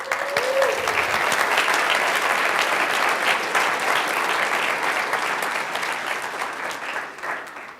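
An indoor audience at a blood bank drive claps for blood donors, a dense, steady burst of applause that starts at once and fades over the last second.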